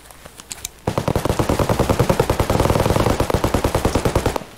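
Rapid automatic gunfire from a video game shootout, a sustained burst of evenly spaced loud shots lasting several seconds after a few sparse clicks, with no talk over it.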